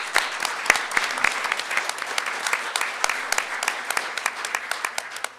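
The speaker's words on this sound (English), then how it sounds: "let's give them a big round of applause" Audience at a school district board meeting claps in a steady, dense round of applause for a foundation donor, many hands close and far blending into continuous crackle with sharper individual claps throughout.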